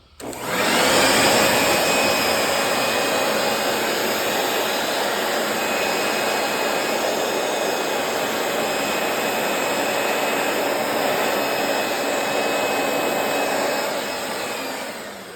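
Compressed air blasts steadily onto a freshly degreased rear hub assembly from a 2006 Dodge Viper SRT10, a loud, continuous close-up hiss with no talking.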